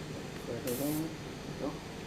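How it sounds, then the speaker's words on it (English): A Gundam Marker airbrush gives a short test spray, one brief bright hiss in the middle of quiet room noise, with a voice murmuring faintly around it. "kind of do a test spray outside and then work your way inwards towards the model"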